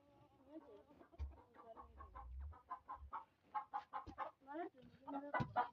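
Chickens clucking softly in their village sleeping spot, scattered short calls close by, mixed with someone talking throughout.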